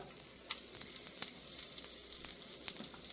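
Dried red chillies and a pinch of asafoetida fry in a little oil, giving a steady soft sizzle with scattered faint crackles and pops throughout, alone and fairly quiet.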